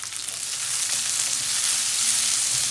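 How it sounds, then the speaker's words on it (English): Ginger, garlic and green chilies fry in hot oil, a steady, close, bright sizzle that holds evenly throughout with no voices. "Add the ginger and garlic and the green chilies and fry."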